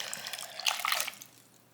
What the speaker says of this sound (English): we're just gonna fill up this bottle